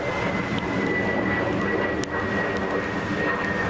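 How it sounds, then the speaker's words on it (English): Fixed-wing aircraft flying over outdoors among trees, a steady broad engine roar with a sustained whine, fairly loud and continuous throughout with no talk. "Technology's trying to take away something beautiful from me right now, but flyby planes."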